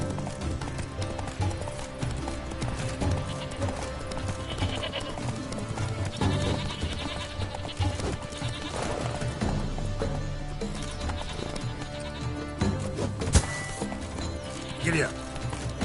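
Hooves clip-clop steadily while a horse is ridden in The Witcher 3: Blood and Wine, half-buried in a dense bed of music and ambience with occasional animal calls.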